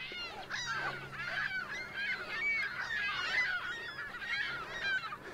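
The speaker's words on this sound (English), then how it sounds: "These birds are loud, like really loud." Geese honking loudly and continuously near shallow water on a lake, a raucous overlapping chorus of harsh calls from several birds, close by, with no speech.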